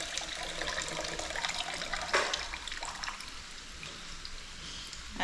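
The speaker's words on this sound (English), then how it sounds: "pour off the excessive water." Excess water is poured off cooking food in a kitchen while making ackee and saltfish, a continuous hissing, splashing flow with a sharper spill midway, fairly quiet and without talk.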